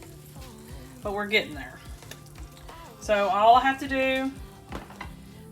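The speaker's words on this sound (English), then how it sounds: "It is sizzling, but I want it a little bit more." Steady crackling sizzle of food frying in hot oil runs throughout, with a person talking briefly over it.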